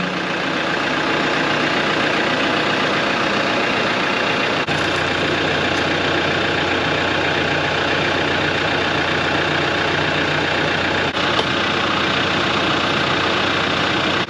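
A tractor engine idles steadily at close range, a continuous low rumbling drone that holds level throughout with a slight shift in tone partway through.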